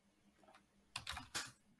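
Quiet typing on a computer keyboard at a command prompt, a brief burst of a few close key clicks that grows slightly louder toward the end, with no talking.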